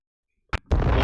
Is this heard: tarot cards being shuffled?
no